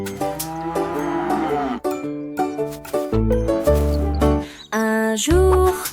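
A cow moos over and over, loud and close. Its long, tonal calls are broken by short gaps and sit over soft music in a children's nursery rhyme.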